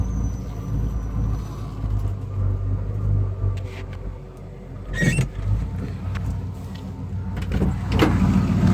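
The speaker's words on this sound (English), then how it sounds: "I'll walk around it with it idling" A 1974 Buick Century Luxus with a 350 V8 idles in a school parking lot, a steady low rumble running throughout with a couple of brief mechanical clicks or door-like knocks partway through and near the end.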